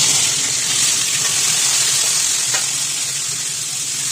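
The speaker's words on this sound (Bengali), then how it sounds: "এবার আমরা আলু আর ওলটা ভেজে নেব।" Potato and elephant foot yam pieces fry in hot oil, a loud, steady close-up sizzle and hiss that runs unbroken throughout.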